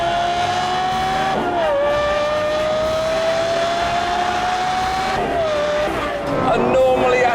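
A naturally aspirated 4.8-litre V10 in a Lexus supercar revs loud and close, holding a high, sustained wail that dips briefly as it shifts and climbs again.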